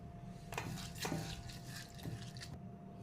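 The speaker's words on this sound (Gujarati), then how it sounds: "એમાં પાણી નાખીને પહેલાં પૌવાને ધોઈ લઈશું ને પલાળી લઈશું" Water poured into a bowl of flattened rice (poha) to wash it, a soft continuous splashing and trickling with brief surges, close and fairly quiet, no voices.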